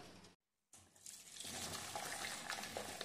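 Water from boiled soybean chunks gushes through a strainer: a brief drop-out, then a steady rushing pour that builds and continues close by.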